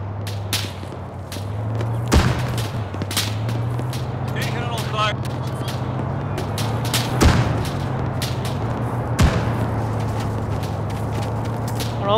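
Gunfire in the game Arma cracks out as a few sharp, loud shots spaced seconds apart, over a low steady engine drone, with talk mixed in.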